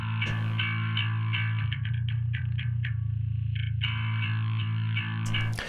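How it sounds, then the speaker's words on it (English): A distorted guitar runs through a plugin that pitches it down an octave to sound like a bass, playing sustained low chugging notes with effects, loud and steady with no speech. "I just pitch it down an octave and it, you know, sounds like a bass."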